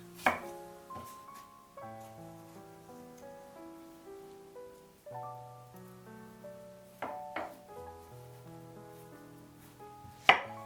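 Ripe plantains are chopped into sections on a cutting board, with a few sharp, separate knife strikes over soft background music.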